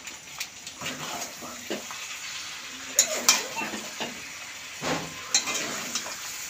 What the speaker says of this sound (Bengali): আমি এখন একটু চিকেন মশলা দিয়ে ভালো মতো কষিয়ে নিব।